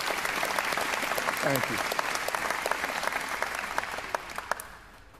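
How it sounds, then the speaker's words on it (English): A comedy audience applauds steadily throughout, a dense wash of claps that tapers off near the end, while someone briefly speaks over it. "Thank you for your applause."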